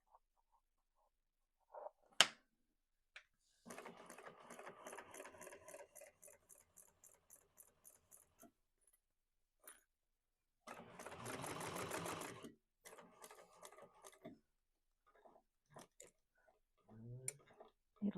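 A sewing machine stitches a quilt pattern in short, quiet bursts separated by pauses, with one longer run in the middle and a voice speaking between the stitching.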